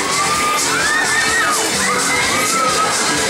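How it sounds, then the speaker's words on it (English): Riders scream continuously on a spinning waltzer fairground ride at Bury St. Edmunds, a dense crowd of shrill, wavering shrieks and whoops over loud fairground noise. "Scream the faster you go and make some noise."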